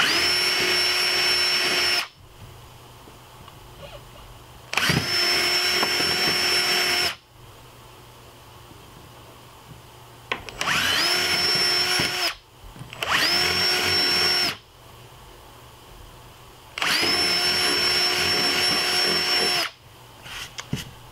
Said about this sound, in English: I'm going to take my drill gun